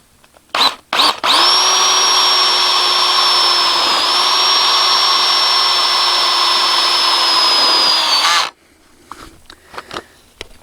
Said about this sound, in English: put a self-tapping screw right on the side.